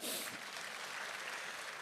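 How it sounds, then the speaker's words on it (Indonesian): A church congregation applauds during a sermon, a brief, faint wash of clapping heard from a distance with no talk over it. "tepuk tangan bagi Tuhan"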